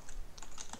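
Fast keystrokes on a computer keyboard while typing a line of code for a script that changes a baseplate's brick color; about half a dozen close, quick taps in under a second with no talking.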